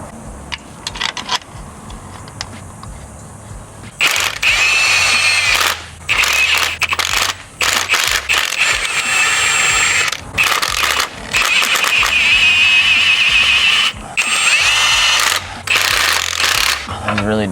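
A power tool loosens bolts on the subframe of an MK8 Golf R, firing in loud, close mechanical bursts of several seconds with short pauses between them.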